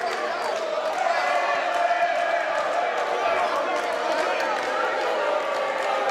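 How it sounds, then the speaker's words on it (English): Boxing crowd at a Paddy Gallagher versus Freddy Kiwitt fight roaring and cheering steadily, a dense continuous wall of voices with commentary talk running over it. "Crowd trying to help out too."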